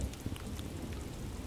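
A thunderstorm in the Animal Crossing: New Horizons video game sounds as a quiet, steady wash of rain with low rumbling underneath and faint scattered raindrop ticks, and no one talks over it.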